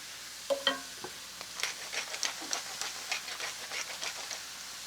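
A wooden spoon stirs mushrooms and thyme through a hot pan, giving a run of soft scrapes and light clacks over a gentle, steady sizzle, close and fairly quiet.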